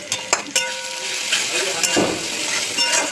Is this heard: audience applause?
no